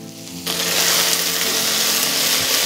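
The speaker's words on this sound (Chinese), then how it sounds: "起锅倒油，油热之后我们先放入葱姜蒜" Chopped scallion, ginger and garlic hit hot oil in a wok, bursting into a loud, steady crackling sizzle after a brief quieter moment, then hissing continuously over a faint tonal background.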